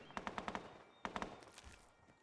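Two quick bursts of loud automatic gunfire crack out in a post-apocalyptic wasteland firefight in Fallout 4, each a rapid string of sharp reports, the second burst trailing off into fainter scattered shots.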